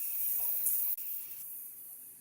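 A Cosori pressure cooker vents steam in a continuous, even hiss that stays loud and close. It pauses for a moment partway through, then carries on alone.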